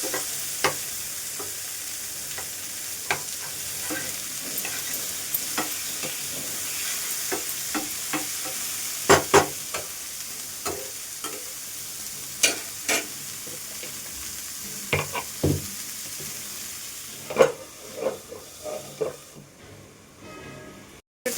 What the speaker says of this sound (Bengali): টমেটোটা দিয়ে একটু ভালো করে ভাজতে হবে।